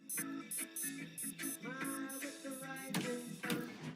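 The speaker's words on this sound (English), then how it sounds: "the second beep on his watch happens" Wristwatch alarm beeping in the film I Am Legend, a quiet run of rapid, regular electronic beeps in short repeated bursts, heard alone.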